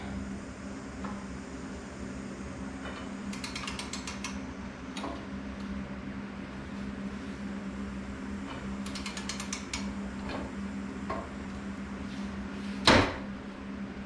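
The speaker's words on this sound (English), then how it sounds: "my gear puller is still only bending the grooves of the pulley" Gear puller straining against a stuck engine pulley on a Sears 10XL garden tractor, giving repeated close metallic ratcheting clicks in short clusters, with one sharp louder clank near the end.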